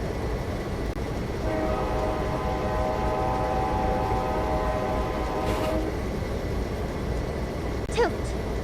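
A locomotive horn in a train simulator game sounds one long steady blast over a constant rumble of the moving train, then fades out, followed by a brief high squeal.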